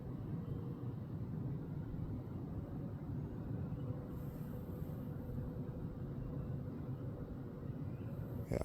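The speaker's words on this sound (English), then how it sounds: "Airplane." An airplane passing overhead at night in rural Wisconsin, a faint, steady low drone with no other distinct sounds.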